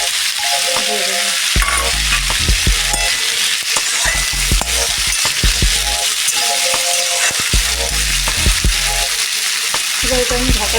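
Vegetables with green chilies fry loudly in a pan, a constant hissing sizzle broken by frequent clanks and scrapes of a spatula stirring against the metal.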